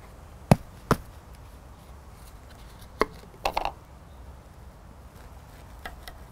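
A knife chops down through a potted parsley plant to divide it, giving a handful of sharp, separate cutting thuds with pauses between, close and fairly crisp.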